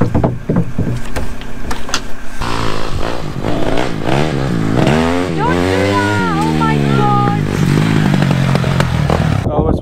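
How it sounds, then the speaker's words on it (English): A scramble motorbike on a farm on Orkney, Scotland, runs loud and close with a rising, revving engine whine that climbs and wavers in pitch, while people talk and shout over the noise. "he's then got his scramble bike to go up"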